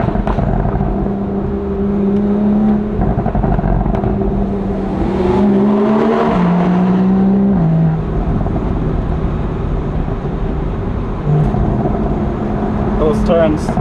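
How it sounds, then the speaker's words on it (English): A Porsche 997.2 Carrera engine on a drive over the Susten Pass mountain road gives a steady, high-pitched drone. Its tone rises and falls through gear changes and throttle shifts, heard close and continuous throughout. "The 997 has something special in its sound. It's somewhat a little bit high pitched."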